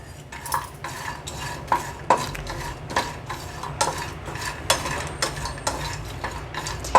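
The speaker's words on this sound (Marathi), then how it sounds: "आता हे पण एक सात ते आठ मिनटासाठी भाजायचे आहे" Whole spices for garam masala dry roast in a pan, stirred with a utensil that scrapes and clinks against the metal in a steady rhythm, close and clear with no talk.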